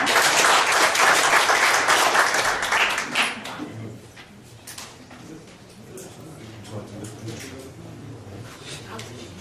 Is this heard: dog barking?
no